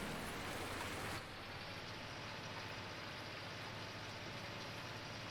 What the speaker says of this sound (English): I'm hoping this rain is going to stop in the near future.